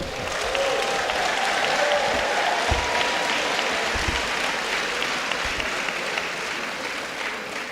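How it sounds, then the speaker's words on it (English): An audience of medical students at a university faculty pledge ceremony claps steadily, a broad sustained round of applause that holds at even loudness throughout with a few low thumps. "Give yourself a big round of applause"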